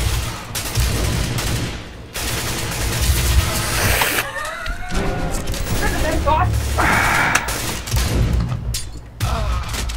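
Rapid gunfire bursts from the CS:GO video game, loud, repeated volleys throughout, layered under excited Danish talk between players.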